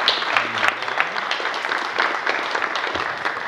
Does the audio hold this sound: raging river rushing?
no